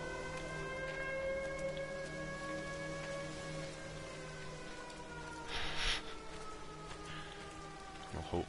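An air raid siren wails in the game Everybody's Gone to the Rapture, several long sustained tones sliding slowly in pitch over a steady background hiss, with a brief noisy burst partway through.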